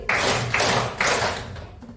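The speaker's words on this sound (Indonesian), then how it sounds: "Tepuk 5 kali." Three sharp, evenly spaced hand claps in a classroom lesson, following a teacher's call-and-response clapping cue, each crisp and close with a short decay.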